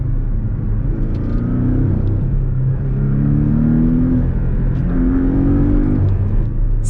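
A Porsche 718 Cayman four-cylinder revs through its exhaust, with several rising and falling engine sweeps over a constant low drone, heard from inside the car at close range.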